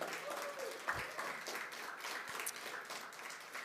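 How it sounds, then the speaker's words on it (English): Audience at a Rutgers University divestment panel event applauding, a faint, steady patter of clapping heard from a distance with a few murmurs. "If you all can just give them a round of applause."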